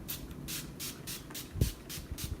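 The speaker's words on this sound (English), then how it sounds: "I will be using the Urban Decay All Nighter setting spray" Urban Decay All Nighter makeup setting spray is misted in repeated short hissing pumps at close range. Each burst is brief and evenly spaced, with a small handling knock midway.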